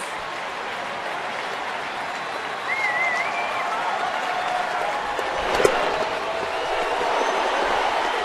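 A baseball stadium crowd on its feet in the ninth inning, a steady roar of cheering and applause at moderate distance, swelling with a brief sharper burst partway through.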